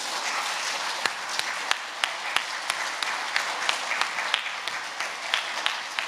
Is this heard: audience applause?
yes